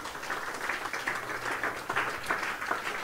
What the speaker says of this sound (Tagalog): Palakpak sa ating Panginoon.